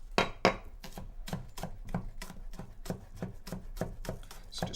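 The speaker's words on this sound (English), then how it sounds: "So just chop your green onion." A knife chops green onion on a cutting board in a steady run of about a dozen crisp, close, evenly paced strikes, with no talking.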